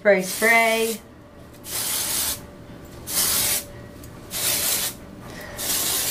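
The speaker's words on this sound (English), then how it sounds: "it's been 2 days and I'm gonna spray." Four bursts of Cibu Dry Kwon dry-shampoo spray hiss into hair, each about a second long with brief pauses between, close and fairly loud, following a short spoken phrase at the start.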